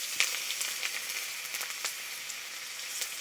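Onion frying in oil with dried red chillies and whole cumin, a soft steady sizzle with faint crackles throughout, fairly quiet and close, no voices.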